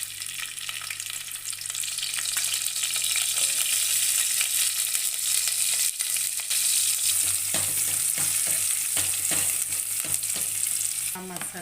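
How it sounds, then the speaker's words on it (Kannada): Chopped onions sizzle loudly and steadily in hot oil in a pot, tempering for egg sambar, with occasional stirring scrapes and no talking. "ಇವಾಗ ಎಣ್ಣೆ ಬಿಸಿ ಆಗಿದೆ. ಇವಾಗ ಈರುಳ್ಳಿ ಹಾಕ್ಕೊತೀನಿ ಒಗ್ಗರಣೆಗೆ."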